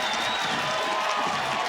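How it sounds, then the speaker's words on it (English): Alabama home crowd at Rhodes Stadium roaring during a college softball game against Arizona, a loud, steady wash of cheering and noise with no gaps. "The Alabama crowd getting really loud here at Rhodes Stadium for Kayla Beaver"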